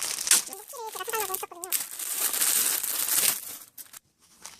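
Wrapping on a birthday gift package crinkles and tears in quick bursts, close by, with brief vocal sounds mixed in before it trails off into near silence.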